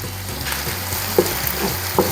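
Garlic sautés in a pan for chicken asado, a low steady sizzle with two sharp utensil clinks against the pan near the end, and no talking.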